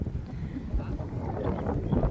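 Steady wind buffeting the microphone with low rumbling gusts and a bit of water-like noise, continuous and fairly loud throughout.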